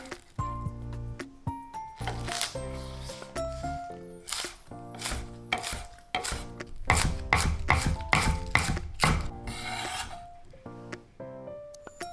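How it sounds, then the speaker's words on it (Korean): A knife chops green onion and onion on a board for cucumber kimchi, giving a close series of crisp, uneven cuts that bunch into quick bursts before slowing to scattered taps, with no talking. "김치 속에 들어갈 파와 양파를 작게 잘라주세요."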